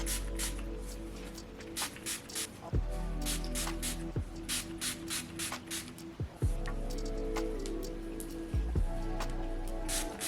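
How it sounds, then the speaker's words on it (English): Quick hissing spritzes from a spray bottle misting hair and scalp repeat in short bursts, close and fairly soft, over a steady low background hum. "And then spray this all over, trying to make sure I actually get my scalp"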